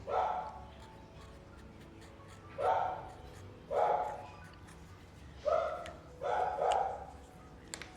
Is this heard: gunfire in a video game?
no